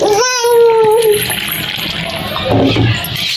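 Warm water is poured into milk powder with a rising gurgling pour, followed by softer sloshing as it is mixed, close by.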